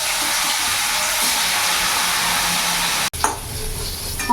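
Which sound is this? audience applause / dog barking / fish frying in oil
fish frying in oil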